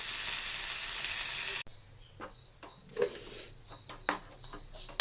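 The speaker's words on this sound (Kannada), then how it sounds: "ಚೆನ್ನಾಗಿ ಎಣ್ಣೆ ಹಾಕಿ ಹುರ್ಕೋಬೇಕು. ಕೊಬ್ಬರಿ ತೊಗೊಂಡಿದ್ದೀವಲ್ಲ, ಇದನ್ನು ಹುರ್ಕೋಬೇಕು." Grated coconut sizzling in hot oil for red chutney, a steady loud frying hiss for the first moment, then quieter crackles and spatters with occasional stirring scrapes.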